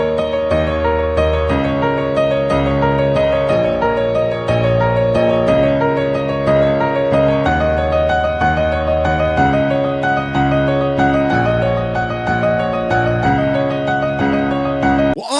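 A simple piano pattern on the black keys, both hands together, with each note repeated three times: a steady, loud, sustained run of chords and notes with no talking.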